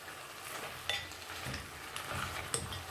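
Seafood curry ingredients for Thai green curry being mixed in a pan, a soft sizzling hiss with a few light clinks and scrapes of a utensil against the pan, close but quiet.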